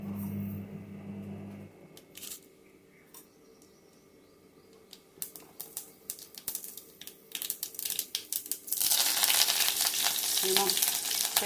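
Mustard seeds crackle and sizzle in hot oil for a Tamil ridge gourd kootu tempering, a sparse popping that grows into a loud, dense spluttering toward the end, with no talking.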